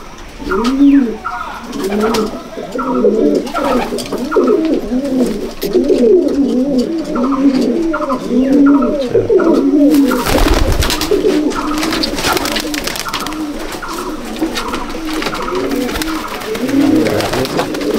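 Pigeons in a loft coo steadily in repeated, overlapping low rolling calls, close and loud throughout, with a brief burst of rustling or wing noise partway through.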